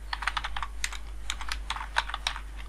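Typing on a computer keyboard while entering text in Excel, a steady run of light, quick key clicks at close range over a faint low hum.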